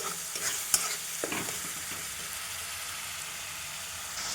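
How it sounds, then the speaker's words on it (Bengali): Spice masala sautéing in a pan for Bengali mutton kosha, a steady soft sizzle with a few brief spoon scrapes near the start, no voices. "মশলাটা খানিকটা কষে নিয়েছিলাম"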